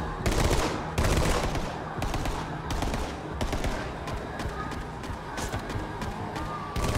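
Rapid machine-gun and rifle fire in the video game Borderlands 3, dense overlapping bursts that hammer on close and loud throughout, with a voice talking underneath.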